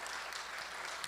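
A church congregation clapping together during a sermon, a brief, even patter of many hands heard from a distance at low level.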